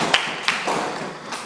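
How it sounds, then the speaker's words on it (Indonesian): A class in a teacher-training lesson claps for a presenting group, a few sparse, light claps and taps spread unevenly across a short, quiet moment rather than a full round. "berikan tepuk tangan untuk kelompok 1."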